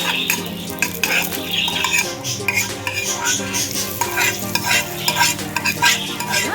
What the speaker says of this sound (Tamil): வரமிளகாயும் கருவேப்பிலையும் போட்டு தாளிச்சிக்கலாம்.